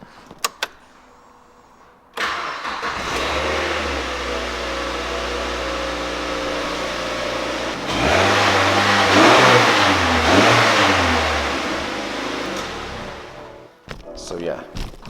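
A Toyota Soarer SC400 on its stock exhaust idles and then is revved in neutral, rising into a louder, wavering rev near the middle before settling again, with brief clicks and knocks at the start and end.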